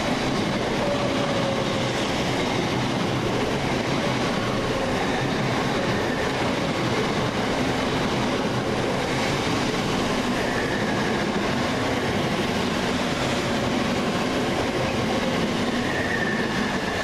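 A Southern Class 377 electric multiple unit pulls into Goring-by-Sea station, a loud, continuous rumble of wheels on rail with faint squeals from the track and no speech.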